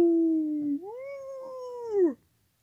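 A character in the Animation Throwdown video game lets out a drawn-out, wavering howl that rises, holds and then drops off abruptly, loud and alone against silence.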